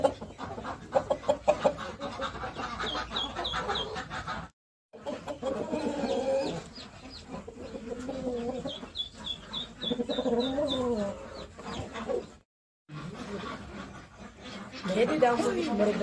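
Chickens cluck around a heavy, feather-legged American breed hen weighing about five kilograms, with repeated nearby calls and rooster-like bursts amid farmyard noise, broken by two brief gaps and mixed with a person talking.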